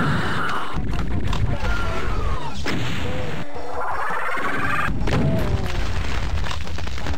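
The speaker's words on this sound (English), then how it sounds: "I think the chain gunner shot the Archvile." Chaingunner firing on an Archvile in the Doom-engine shooter TNT: Evilution, a loud, dense stretch of repeated booming shots and crashing impacts with layered game effects filling the whole clip.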